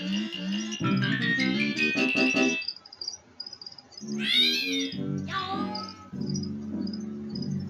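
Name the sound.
cat meowing in video game Pac-Man 2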